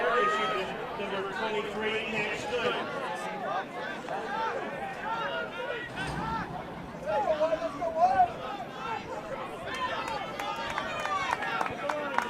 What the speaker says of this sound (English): the Cochrane Crazies are loving it behind that goal, definitely making some noise